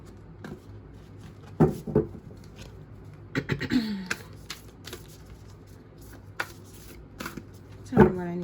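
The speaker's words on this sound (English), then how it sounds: "let me give one more shuffle and then we're going to give this a go." Tarot cards are shuffled in a quiet room, with several crisp riffling bursts spread across the stretch and a fuller flurry of card noise near the middle.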